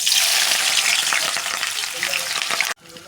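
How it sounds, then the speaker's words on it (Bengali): Onions hit hot oil for chow mein, a loud, close, hissing fry with crackles that carries on steadily, then cuts off abruptly near the end. "এবার পেঁয়াজ দেবো। তেল গরম হয়ে গেছে,"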